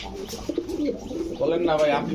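A male pigeon coos at close range, several soft, throaty rolling calls that swell louder toward the end, while someone talks over them among pigeons kept for sale.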